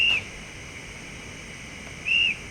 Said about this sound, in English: F19 guards whistle